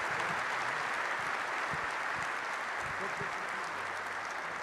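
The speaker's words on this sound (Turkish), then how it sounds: "Kuvvetli alkışlarınızla yerlerine davet ediyoruz." Sustained applause from an audience at a live Turkish television broadcast, a dense steady wash of clapping heard clearly throughout at a moderate distance with no pauses.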